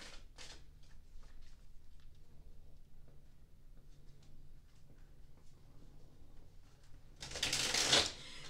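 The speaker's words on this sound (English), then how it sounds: "let's go ahead and shuffle up this third deck" A tarot card deck is handled with light taps and rustles, then riffled in one quick, crisp burst of shuffling near the end, close and fairly quiet.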